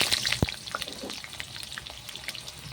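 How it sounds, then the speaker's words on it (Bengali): Cut bitter gourd hitting hot mustard oil that already holds fried black cumin seeds, giving a faint, steady frying crackle with small scattered pops and light stirring, fairly quiet and without talk. "এবার দেবো কেটে রাখা ঘি করলাগুলো।"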